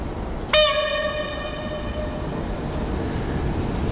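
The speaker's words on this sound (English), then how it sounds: "At long last, I think our train is here." A train horn blasts suddenly, a sustained multi-tone chord that holds steady for several seconds over the rumble of a train arriving at a station in western Ukraine.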